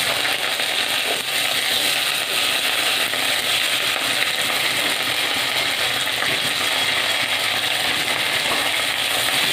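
Vegetables for a bottle gourd shoot curry go into a hot pan already holding tomato, green chilli and five-spice seeds, giving a steady, even sizzle and fry that holds without break throughout, with no talking.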